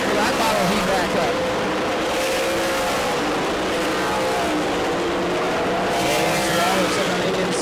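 Super Late Model race cars at New Smyrna Speedway roaring around the track in a steady, loud engine drone as the pack runs a long green-flag stretch, with a race commentator talking over it.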